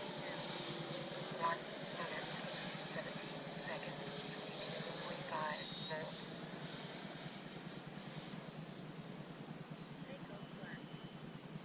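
A Freewing F-22 Raptor RC model with a 90mm electric ducted fan passes in flight, heard as a steady, fairly faint whine and rushing hiss that holds throughout, with voices talking over it.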